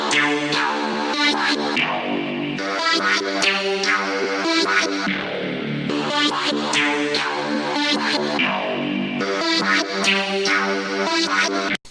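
Bouncy Serum 2 synth melody built from a chopped-up bass line, slightly glitched, for a beat: dense, steady stuttering notes with a full mid-heavy tone running continuously for the whole stretch, no voices.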